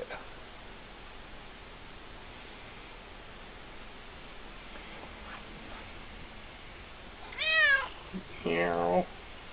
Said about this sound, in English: Meow. You better leave Mom's African violet alone there, Sox.